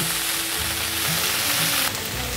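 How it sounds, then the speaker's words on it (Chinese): Tofu with greens and seaweed is stir-fried in a hot wok, producing a loud, dense, continuous sizzle with faint scraping as the pieces are tossed, without any voices. "快速翻炒。 豆腐可以增加脆口的口感。"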